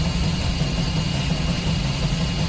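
Steam locomotive at full throttle in Train Simulator, a steady loud rumbling chuff-and-roar of the engine working hard, continuous and close with no pauses.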